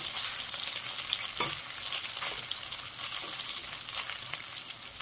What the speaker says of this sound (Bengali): এবারে এর মধ্যে আমি সোয়াবিনগুলো দিয়ে ভেজে নেব।